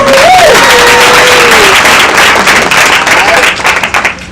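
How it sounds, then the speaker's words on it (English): Loud audience applause at a Fort Valley State University lecture event, acknowledging sponsor Wells Fargo, with a brief whistle or cheer rising early over steady clapping that gradually tapers. "So can we just give one more round of applause for one of our sponsors,"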